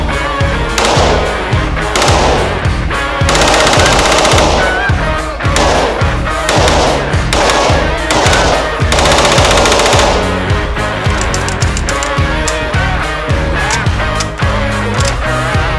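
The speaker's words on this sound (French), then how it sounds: "j'ai pris un P90, c'est la première fois de ma vie que je vais en essayer un" P90 submachine gun firing at an outdoor shooting range in Texas: loud, dense bursts of rapid automatic fire, repeated in long strings with brief pauses between them.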